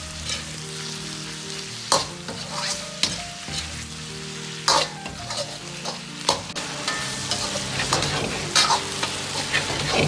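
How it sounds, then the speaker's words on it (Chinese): Braised pork belly with chestnuts is stir-fried in a wok with dark soy and seafood sauce, sizzling steadily throughout while a spatula scrapes and clanks against the metal at irregular intervals. "再继续翻炒30秒钟，"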